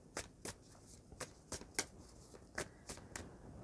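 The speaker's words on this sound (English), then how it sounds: "Sagittarius spirit, if I can have 2 cards out of this deck, please." Tarot cards are drawn from a deck in a quiet room, a rhythmic run of about a dozen soft, crisp card flicks and slides spaced evenly, close and faint.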